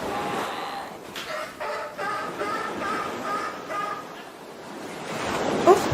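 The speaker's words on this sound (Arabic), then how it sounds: "كلب البحر." A sea lion gives a run of repeated, rhythmic barking calls over a steady wash of surf and wind, ending with a sharper cry.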